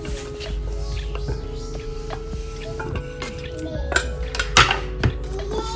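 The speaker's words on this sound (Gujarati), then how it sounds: "હવે એને એક અલગ બાઉલમાં લઈ લઈશું અને એને હજી એકવાર ધોઈ લઈશું આપણે." Chopped potatoes washed by hand in a bowl of water, with close, continuous sloshing, splashing and clinking of pieces against the bowl, louder bursts near the end.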